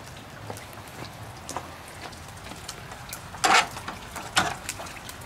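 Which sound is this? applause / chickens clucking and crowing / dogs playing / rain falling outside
rain falling outside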